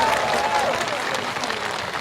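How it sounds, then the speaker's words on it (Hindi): A crowd at an outdoor political rally applauds loudly and steadily, dense clapping continuing without a break from start to finish. "जरा आखिरी तक राष्ट्रीय अध्यक्ष के सम्मान में तालियां बजना चाहिए, आखिरी तक जोरदारी के साथ"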